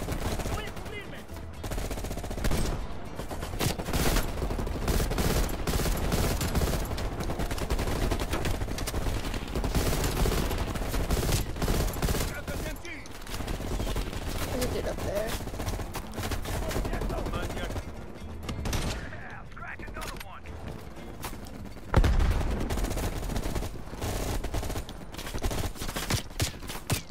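Sustained gunfire in the Black Ops Cold War campaign, dense continuous automatic bursts and explosions over nearly half a minute, loud and close, with voices shouting in the mix.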